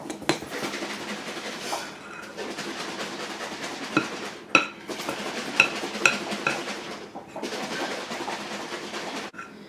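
Roll dough being mixed by hand in a bowl in a home kitchen: irregular scraping, stirring and clinking of a utensil against the bowl, moderately close, with brief pauses between bursts.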